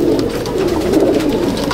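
A pigeon held in the hand struggles, with soft wing rustles beneath continuous close cooing from a loft full of pigeons.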